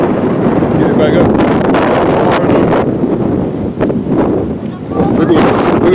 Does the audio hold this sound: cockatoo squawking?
no